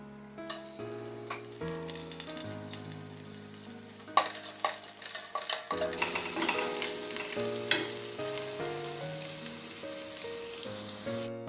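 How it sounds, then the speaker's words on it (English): Sliced garlic fries in hot oil with peppercorns and cumin, giving a steady sizzle and stirring sounds beneath louder background music that plays throughout. "After a few seconds, now I'll add the garlic,"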